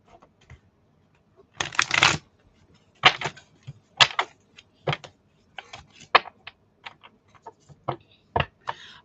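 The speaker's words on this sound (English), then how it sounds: "So shuffling kind of helps me to mix them all up" A large tarot deck shuffled by hand up close: a series of short, crisp riffling and tapping bursts separated by brief pauses, with no talk over them.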